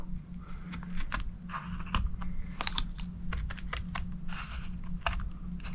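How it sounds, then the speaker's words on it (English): Scissors cut through a hard plastic top loader that holds an old Pokémon card, giving a close series of sharp crunching snips and clicks at an irregular pace. "So we'll cut here carefully now."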